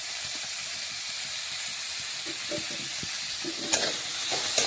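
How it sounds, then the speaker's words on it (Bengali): Broccoli and mixed vegetables with carrot, salt and turmeric powder stir-fry in a hot pan: a steady, close frying hiss runs throughout, overlaid by soft scraping strokes and a few sharper clinks of the spoon toward the end, no voices. "হলুদ গুঁড়ো ভালোভাবে নাড়াচাড়া করে মিশিয়ে নিচ্ছি।"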